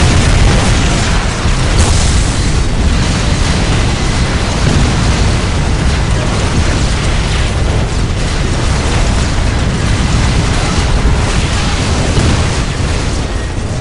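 Explosions and heavy fire in the video game Dawn of War: Dark Crusade, a loud, unbroken barrage of booming blasts and crackling weapon fire filling the whole stretch without pause.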